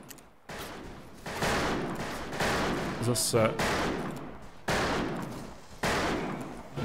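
Repeated bursts of gunfire from the Wild West shooter Fistful of Frags, coming as several loud volleys with brief gaps between them, while someone talks over the shooting.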